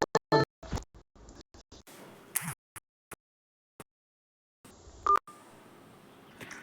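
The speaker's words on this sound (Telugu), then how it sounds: "కాల్ చేస్తున్నాడు అన్నమాట" Phone tones during a Free Fire mobile game session: a quick run of sharp dialing beeps and clicks, then sparse isolated blips separated by silence, and a brief ringing tone near the end.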